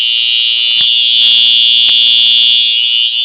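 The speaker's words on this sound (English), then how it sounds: "So the first one we're going to be doing is the EMT." A fire alarm EMT horn blares close and loud as one steady, piercing electronic tone that holds unbroken for several seconds, with no voices.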